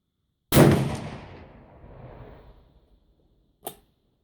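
A single loud, close rifle shot from a .308 test load of 32.5 grains of EM8208 powder cracks and booms, then decays over about two seconds, followed by a short metallic click.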